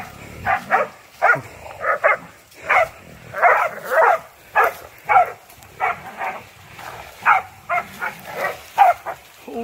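Hunting dog barking during a pig hunt at the end of cane season, a long run of loud, evenly spaced barks close by, with occasional brief voices in the background.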